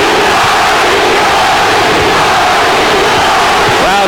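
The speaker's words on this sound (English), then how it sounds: "The Tapia followers in this crowd are over the top with excitement." A dense crowd of boxing fans at a Johnny Tapia fight roars and chants continuously, loud and unbroken, with a brief rising whistle near the end.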